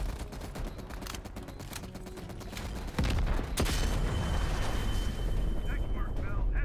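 A C4 charge detonates in the Call of Duty Cold War campaign, a sudden loud boom that cuts through a stretch of rapid gunfire and leaves a heavy rumbling roar behind it.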